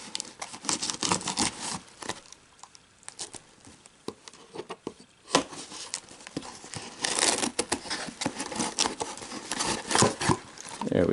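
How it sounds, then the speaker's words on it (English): A knife slicing open the packaging of a Magic: The Gathering Secret Lair box, heard as close, irregular plastic crinkling, scraping and tearing bursts that come and go across the stretch. "Very responsibly cut towards ourselves, as you know everyone instructs you not to do."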